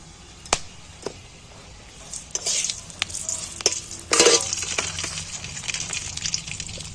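Whole bay leaves, cardamom, cinnamon and cloves crackle in hot oil for a chicken curry: scattered sharp pops and clicks over a soft, steady sizzle, with a few utensil scrapes, close by and with no talking.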